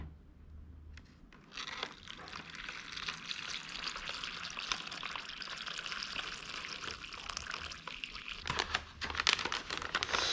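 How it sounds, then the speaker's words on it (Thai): An MRE flameless ration heater bag is torn open with sharp crinkling plastic, then water is poured in, followed by a steady fizzing hiss. The sounds are close and fairly quiet, with no voices. "ฉีกถุงทำความร้อนเหมือนเดิม เทน้ำเปล่าลงไป"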